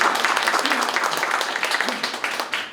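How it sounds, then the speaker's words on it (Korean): Brief burst of audience applause in a hall at a constitutional amendment forum, dense clapping throughout, fairly close, with faint voices beneath. "마지막 박수 한번 쳐주십시오."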